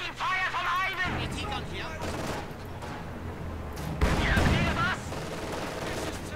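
Gunfire crackles in Company of Heroes 2 as Soviet troops come under attack in winter, with dense sustained bursts, rattling volleys and a heavier blast layered over battle noise and soldiers' shouted voice lines.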